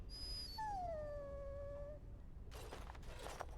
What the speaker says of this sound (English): This dog is to be delivered to the kennel.